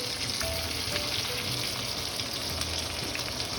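Cherry tomatoes frying in a pan with tofu skin, giving a steady, moderately loud sizzle with small crackles throughout and no talking.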